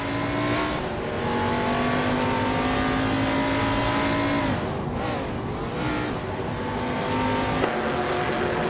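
A 1971 Plymouth Roadrunner race car in a racing video game, its engine droning loud and steady at high revs. The pitch climbs, drops briefly around a shift or corner, then rises again, with faint tire noise and no talking.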